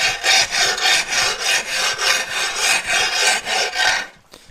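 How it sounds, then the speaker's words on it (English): The sharp edge of an aquarium glass pane is rubbed down with limestone wool used like sandpaper, giving loud, rhythmic rasping strokes about three per second that fade at the end, with no talking. "So I'm just taking the sharp edge off the glass."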